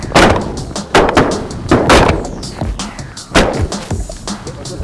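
Shotgun blasts fired while hunting with Browning ammunition, several sharp loud reports in irregular succession, with brief voices between them.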